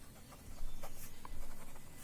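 A pen scratches steadily across paper as a maths problem is worked out by hand, a close, quiet rhythmic rubbing with no voices.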